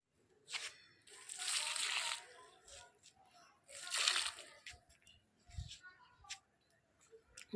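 Water is poured onto potted plants on a rooftop in faint, irregular splashes and sloshes spread over several seconds.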